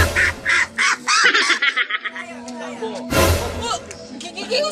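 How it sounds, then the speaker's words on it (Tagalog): A duck quacks in a few bursts at close range, with someone talking loudly over and between the calls outdoors. "Kayo mong pato, nasangit na jud siya."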